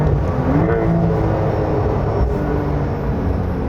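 Steady, loud engine roar from a Porsche 911 GTS, deep and continuous with exhaust rumble, heard from the driver's seat without any talking.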